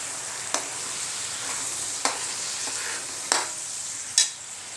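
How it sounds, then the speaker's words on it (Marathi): Masala for undhiyu fries in oil in a kadhai with a steady hiss, broken by four sharp scrapes of a spoon stirring at intervals, close and with no talking. "आता ही चांगली फ्राय करायची."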